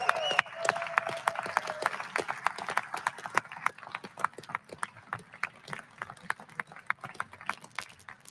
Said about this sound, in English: You got to hold your applause